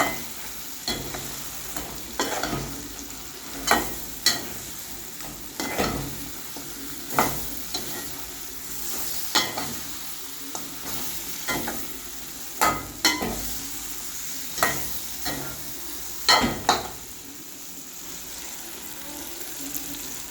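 Fried chicken sizzles in masala in a pan while being stirred, a steady close frying hiss broken by regular scraping spoon strokes and clinks every second or two.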